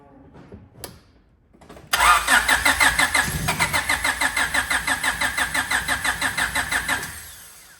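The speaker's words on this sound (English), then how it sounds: "crank her over again and wide open throttle and see if she plays ball" A Honda Integra DC2 Type R engine cranks with a rapid rhythmic whirr, then the engine catches and runs loud and close. Its firing pulses even out before dying away, and faint clatter comes just before.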